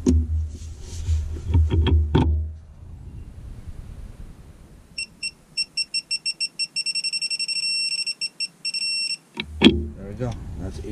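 A digital torque meter set to foot-pounds beeps in a fast, regular series of rapid tones that merge into a longer steady tone while brake caliper bolts on a 2012 Ram 1500 are tightened. Clanking tool noise comes before and after the beeping.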